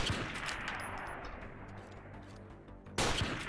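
Gunfire in the video game Freeman Guerrilla Warfare: sharp shots crack in quick bursts, fading into a quieter lull before another loud report hits near the end.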